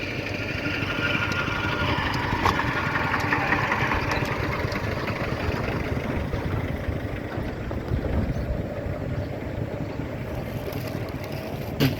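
A tractor engine runs steadily at a low, chugging idle, a continuous mechanical rumble with no speech, holding the same level throughout.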